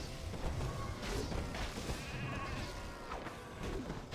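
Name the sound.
sheep from polymorph spell in video game Warcraft III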